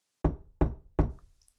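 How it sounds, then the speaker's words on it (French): Three firm, evenly spaced knocks on a door ring out close and loud against complete silence. "c'est à ce moment-là qu'on entend frapper à la porte"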